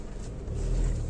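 A 2013 Volkswagen Polo with a petrol engine drives smoothly, giving a low, steady, fairly faint engine and road rumble that swells slightly toward the end.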